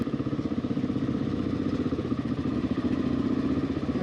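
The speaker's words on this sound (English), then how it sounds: "Looks like there's somebody coming. Wow, there's a lot of vehicles back there." Several vehicles approaching on a road near a campsite during an African dual-sport motorcycle trip, a steady close engine drone with a fast pulsing throb, no talk.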